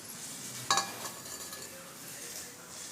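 A quarter kilo of green chillies dry-roasting on an iron tava gives a faint, continuous sizzling hiss, broken early by one sharp metallic clink of a utensil against the griddle.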